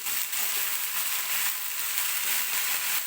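Chopped spring onion greens sautéing in hot oil in a pan, a loud continuous sizzle and crackle with faint stirring throughout, no voices.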